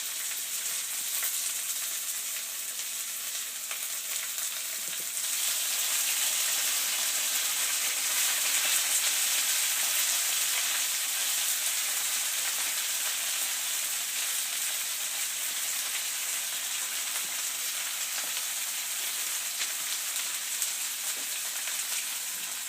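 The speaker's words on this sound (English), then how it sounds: "I'm putting about half of the greens in each pan." Greens split between two frying pans of hot oil sizzle with a dense, even hiss that swells slightly a few seconds in and then holds steady, near and loud, with nobody talking.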